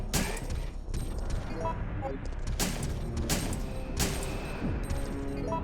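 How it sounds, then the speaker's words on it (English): Handgun shots fired at Nemesis in Resident Evil 3, sharp repeated pops spaced about a second or two apart over a constant, busy game background. "it's going to take 21 handgun rounds to take him down"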